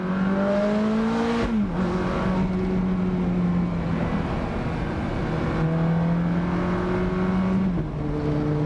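A 2007 Ferrari F430 Spider's engine revs hard as the car accelerates, a loud, close, rising howl that drops briefly at each gear change and then climbs again.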